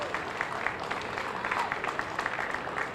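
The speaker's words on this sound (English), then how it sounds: "Give a nice round of applause for those guys." Moderate crowd applause at an outdoor Feast of the Blessed Sacrament parade, scattered hand claps over a soft background murmur.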